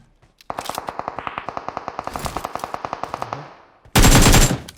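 Rapid automatic gunfire in the mobile battle royale game PUBG Mobile, a steady burst of about thirty loud, evenly spaced shots, followed by a short pause and then a harsh blast of noise.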